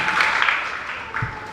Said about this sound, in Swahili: Wapigie tena makofi mengi mazuri sana.